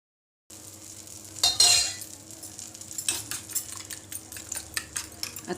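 Batter for an egg dosa hitting a hot tawa, a burst of sizzling and scraping as it is spread, followed by lighter crackling and sporadic clinks that carry on close by.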